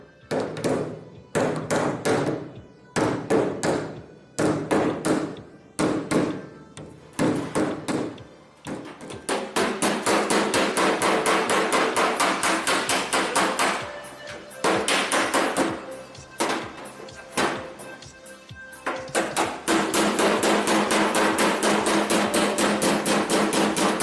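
A hammer strikes the raised edge of a car's front wing to straighten it during panel repair, sharp metallic blows in rhythmic bursts with short gaps, then a long stretch of rapid, nearly continuous hammering, loud and close.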